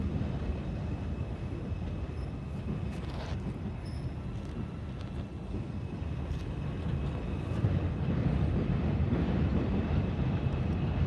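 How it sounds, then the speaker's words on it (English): A train passing near a park in New York City at night gives a low, distant rumble that swells gently toward the end, over steady ambient hum with no voices. "Do you think that the sound of the train is annoying?"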